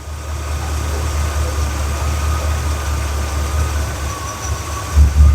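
A hot-rodded engine idles steadily while its idle mixture screws are adjusted, a low continuous rumble with a slight rise in loudness near the end.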